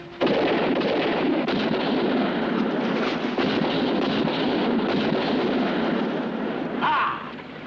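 A dense, sustained roar of gunfire after an order to fire, like a continuous volley from a patrol. It fills the whole stretch at steady loudness, with a shout near the end.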